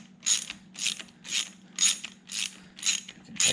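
A 13 mm ratchet tightens a billet distributor clamp on an air-cooled VW stroker engine, giving about seven crisp, evenly spaced clicking bursts up close, with no talking.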